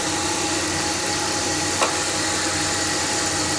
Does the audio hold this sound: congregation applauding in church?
no